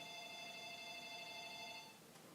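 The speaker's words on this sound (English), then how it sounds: "Go back to what you were saying before the phone started ringing." An indoor telephone rings with a steady electronic trill, sounding faint and somewhat distant for about two seconds before stopping, with no talk over it.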